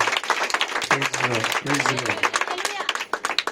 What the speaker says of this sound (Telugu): గట్టిగా చప్పట్లు కొడుతూ దేవుని మహింపరుచు.